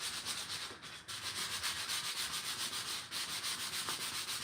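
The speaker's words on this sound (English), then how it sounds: "I'm just going to be doing some hand sanding on these wine caddies that I just made" Steady, close rubbing of sandpaper worked by hand over freshly made wooden wine caddies, a continuous scratchy hiss with a regular back-and-forth rhythm and no voices.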